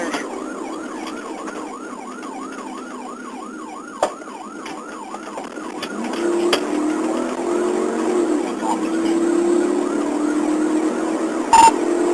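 A wailing police siren sweeps up and down steadily during a motorcycle pursuit, then gives way to a rising engine roar with a couple of sharp clicks, as if heard from a moving vehicle.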